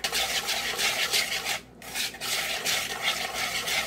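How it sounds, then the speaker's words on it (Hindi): A bowl of room-temperature butter and powdered sugar being beaten by hand, giving a steady rhythmic rasping scrape with a brief pause midway, close and fairly quiet. "बटर और शुगर के मिक्सचर को ये हमने अच्छे से फेंट लिया है।"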